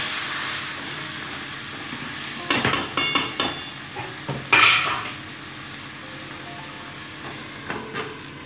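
A metal lid is set onto a cooking pot of boal fish head curry, giving a few clanking knocks and scrapes over a faint steady simmer in a home kitchen.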